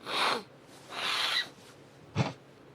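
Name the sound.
sniffling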